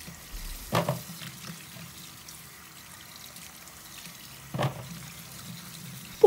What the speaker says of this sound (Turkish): Öncelikle erikleri güzelce yıkıyorum. Erikleri bu şekilde 3 kere de yıkadım.